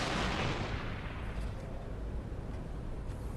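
Grenades going off in Halo 3, a loud blast at the start trailing into rumbling, crackling debris and distant booms that fade over a few seconds.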